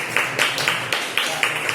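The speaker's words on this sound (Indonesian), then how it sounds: "kita kasih tepuk tangan untuk penampilan dari kelompok ini" Classroom applause for a group's presentation: steady, evenly spaced claps, fairly close, with no other sound over them.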